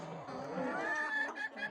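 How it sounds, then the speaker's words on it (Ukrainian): Soft clucking from a few small bantam chickens nearby, low murmuring calls with a brief higher note near the end. "Дуже мені подобаються карликові курочки, такі, знаєте, тихі, спокійні, ручні."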